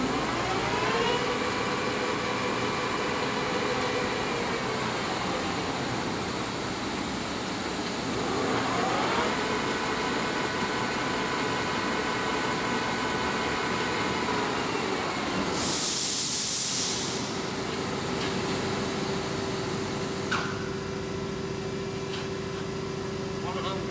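The motor of a new 1980 Poreba TPK-80 gap-bed engine lathe runs at low speed, a steady mechanical hum with whining tones that shift in pitch, a brief hissing burst partway through, and people talking over it.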